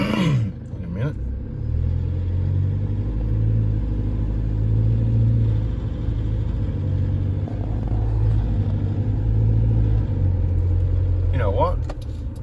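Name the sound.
Toyota Hilux engine running with rattle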